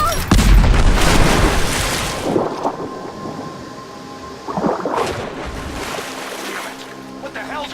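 A grenade blast in Rise of the Tomb Raider opens with a loud, heavy boom that rolls into rumbling debris and a second thudding burst midway, with voices shouting during the combat.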